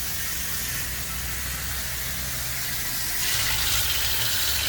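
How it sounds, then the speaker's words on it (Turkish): Cold water poured slowly through a kitchen strainer while rinsing chicken for cola chicken, a steady close rushing splash that grows a little louder toward the end, with no talking. "Süzgeç alıyoruz böyle. Soğuk suyla beraber böyle yavaş yavaş dökeceğiz böyle."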